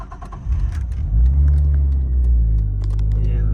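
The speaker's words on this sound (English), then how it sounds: "I'm going to turn the car off and turn it back on" A 1998 Nissan Skyline R34 GTT in Bayside blue cranks and starts up, a brief starter whir followed by a loud, close idle rumble that settles steadily, with a few clicks over it.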